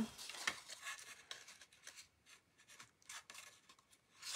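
Paper being creased and pressed flat to fold a tea bag card, heard as a run of soft, dry scratching and rubbing strokes, close and fairly quiet, with no voices.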